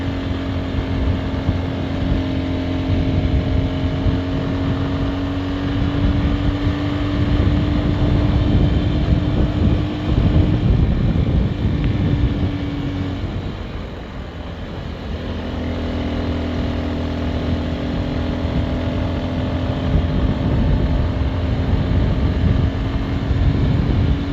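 A steady motorcycle engine drone on off-road tyres runs throughout along a rural village road, with wind rushing over it and a humming tone that shifts pitch as it moves along.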